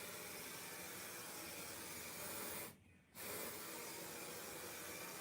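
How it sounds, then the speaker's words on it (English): Specialised glue for slate and pool table cloth sprays in a steady, close, continuous hiss that breaks off briefly mid-way, then resumes just as strongly. "so you're spraying glue"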